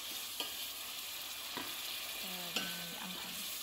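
Canned tuna sizzles in a frying pan while a utensil stirs it, leaving faint, steady frying hiss with a few soft clinks and scrapes of the spoon against the pan.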